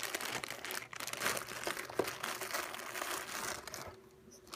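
Plastic packaging crinkles and crackles continuously as it is opened by hand, a dense, close, fairly quiet rustling that fades near the end.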